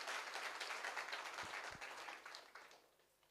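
An audience at a business success-story talk bursts into applause, a dense wash of clapping that holds steady before thinning and fading out toward the end, with no speech.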